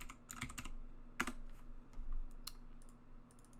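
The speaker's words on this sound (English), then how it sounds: "You're going to type out the animation name itself." Quiet, close keystrokes on a computer keyboard, a few irregular bursts of clicking typing with short pauses between them, with no voices.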